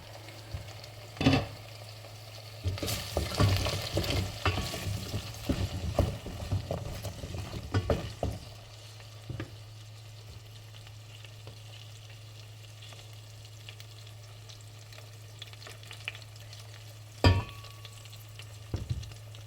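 Carrots, onion and potatoes fry in a pot, a busy crackling sizzle with stirring scrapes in the first eight seconds, then settling to a quieter steady hiss with an occasional sharp clack near the end.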